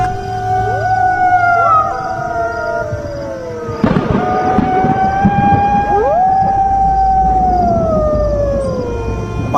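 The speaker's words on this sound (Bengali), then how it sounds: "রাতের হাওয়া ঠান্ডা, আর কানে ভেসে আসছে শিয়ালের ডাক।" Jackals howl on a cold, windy night, a cartoon sound effect of several long, wavering, rising and falling howls that overlap and carry on throughout, with a sharp bang-like hit partway through.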